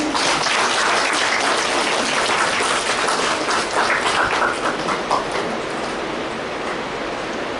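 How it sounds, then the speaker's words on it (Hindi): A hall audience claps together at a Brahma Kumaris Teacher's Day gathering in Ratlam, a dense, loud, sustained round of applause filling the room with no voices on top. "आप सबने ताली तो बजाई।"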